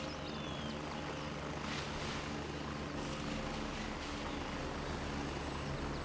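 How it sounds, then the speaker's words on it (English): An enemy helicopter approaching in the video game Gray Zone Warfare, a continuous rotor thrum with a steady low drone that holds for several seconds without talk. "Choppers inbound, Joker."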